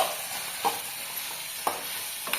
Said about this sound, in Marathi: आणि खोबरं पण थोडंसं भाजायचं,